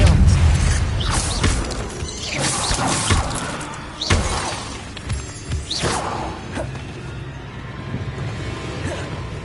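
Spell combat effects from Hogwarts Legacy, including the Expelliarmus disarming charm, crack and shatter in repeated sharp bursts with whooshing swishes and rumbling, loud and close, amid ongoing battle noise.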